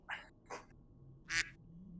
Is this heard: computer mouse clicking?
no